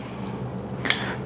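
A fork rough-chops fermented eggs in a bowl, giving a short cluster of bright clinks against the bowl near the end of a quiet, close moment.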